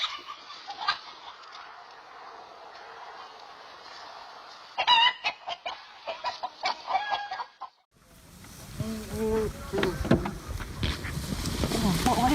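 A rooster faces off against a hawk, giving loud clucks and squawks in bursts with rustling and flapping. Midway the scene cuts to a noisier, closer stretch of agitated fowl calls and scuffling.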